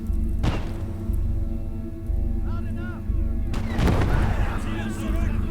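Heavy 75 mm gun shots boom in the Gates of Hell video game during a Hürtgenwald battle, a loud blast near the start and another about midway, over a constant engine rumble with some talk in between.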